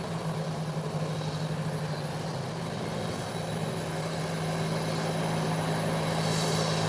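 An aircraft on approach to land at a busy airport runway, a steady distant engine drone with a constant low hum that slowly grows louder, with no talk.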